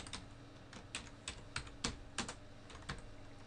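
Quick bursts of keystrokes on a computer keyboard as a file name is typed, with irregular clicks and short pauses, close and fairly quiet, without speech.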